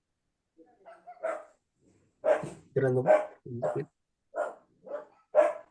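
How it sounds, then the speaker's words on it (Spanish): A dog barking during an online church meeting, a series of several sharp barks spaced irregularly, heard through an open microphone, with a brief voice at the start. "Se oye el perro."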